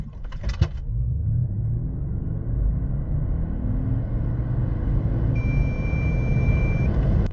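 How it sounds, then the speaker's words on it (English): Under the heavy drivetrain rumble of a 2025 Mercedes G-Class Electric during an aggressive launch, its parking sensor sounds a steady electronic tone for about a second and a half near the end. "sometimes the parking sensor even triggered during such an aggressive launch"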